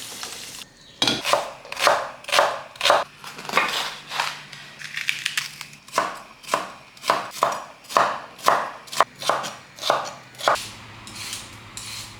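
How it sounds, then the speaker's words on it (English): Vegetables are chopped on a cutting board in a steady rhythm of about twenty crisp knife strikes, each one clear and close. The chopping carries on alone in a home kitchen. "we are also chopping veggies on the side"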